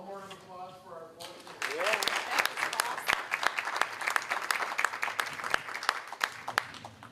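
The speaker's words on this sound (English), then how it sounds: "One more round of applause for our board." Applause for the board at a regular school board meeting, steady scattered clapping from a modest audience in a room, starting after a brief voiced sound and continuing with sharp individual claps throughout.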